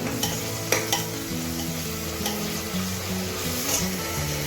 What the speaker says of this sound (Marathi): टोमॅटो पण मऊ होईपर्यंत परतून घ्यायचा